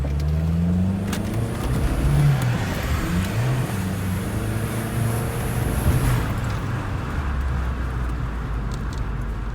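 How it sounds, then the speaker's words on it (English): A car fitted with an adjusted turbo wastegate drives around the block, its engine droning loudly and steadily with rising and falling revs and a brief higher whine near the middle, with no talk. "We're gonna take it a quick spin around the block."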